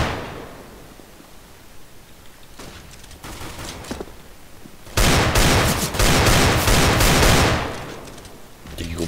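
Desert Eagle pistol fire in a Counter-Strike: Global Offensive match: quiet game ambience with a few sharp shots, then a loud dense burst of gunfire lasting several seconds and fading before a final crack.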